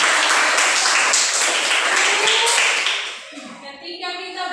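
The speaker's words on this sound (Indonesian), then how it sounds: "tepuk tangan dulu untuk Arthur" Audience applause greets a presenter at a gathering: dense, sustained clapping from a crowd, loud and steady for about three seconds before thinning out as scattered claps and a voice take over.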